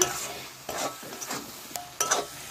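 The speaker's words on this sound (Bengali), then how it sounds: "এটিকে ভালো করে নেড়ে নেব" Bitter gourd curry stirred in a pan, giving short scraping and clinking strokes of a spoon over a faint sizzle, close and fairly quiet, with no voices.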